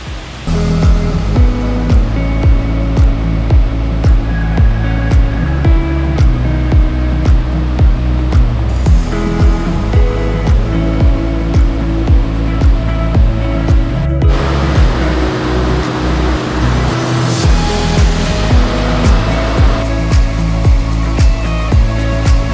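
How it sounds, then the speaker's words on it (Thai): Khlong Nam Lai waterfall in Kamphaeng Phet, Thailand, rushes in a loud, continuous roar of falling water, heard up close and steady throughout with no talking. "บรรยากาศข้างบนนี้เป็นบรรยากาศน้ำตก"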